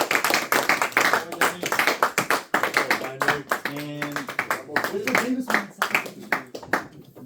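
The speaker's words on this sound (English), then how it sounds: "So shall we give Johnny a round of applause again?" Students in a high school calculus classroom clap for a classmate, a scattered round of sharp, uneven claps mixed with voices talking and a brief sung or hummed tone partway through.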